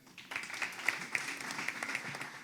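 Applause breaks out from the audience at an olive oil festival awards ceremony, a dense, steady patter of many hands that starts abruptly and carries on without talk over it.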